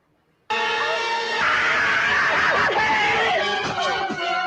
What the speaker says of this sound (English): listen to this scream. Or rather, it's like a cackle.